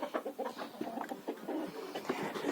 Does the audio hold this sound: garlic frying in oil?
no